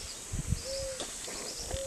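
Birds call in a preserved green area of Conceição do Jacuípe, Brazil: a clear sustained whistle-like note sounds twice amid soft low coos and steady outdoor background noise.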